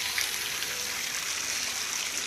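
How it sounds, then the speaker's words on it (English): A water fountain splashes into a swimming pool, a steady, hissing rush of falling water heard close and unchanging, with no voices. "It's our water fountain in the pool."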